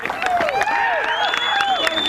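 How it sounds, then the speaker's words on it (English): Applause from players on the side of the field for their opponents at a Rocky Mountain Lacrosse Conference Division II championship trophy presentation, scattered clapping mixed with crowd noise and a voice talking over it. "Class act over on the left side of the field as well, applauding their opponent."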